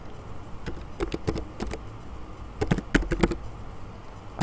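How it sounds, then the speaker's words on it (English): Keys clatter on a computer keyboard as a username and password are typed in two quick bursts with a pause between them. The taps are close and crisp, with no talking. "I type my username and password."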